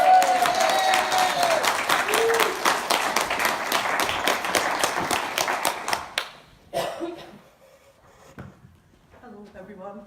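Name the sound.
audience applause for Sheila Sutherland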